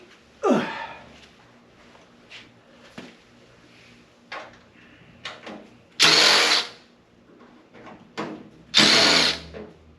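A power drill backs screws out of a fire-burned metal frame in short, close, loud whirring bursts separated by pauses and small clicks.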